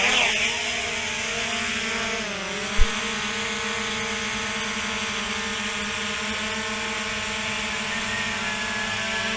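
SJRC F11 4K Pro drone motors spinning up for takeoff, a steady, close electric whine with rich harmonics whose pitch sags briefly midway, punctuated by a single sharp click, with no talking.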